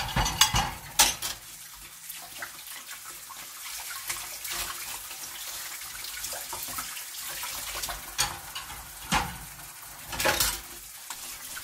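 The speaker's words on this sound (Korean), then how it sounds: "뒷면도 이제 해면 스펀지로 잘 닦아줍니다." Dishes being scrubbed with a natural sea sponge at a sink, with soft wet rubbing, running water and intermittent clinks of plates and cutlery, close and quiet, no talking.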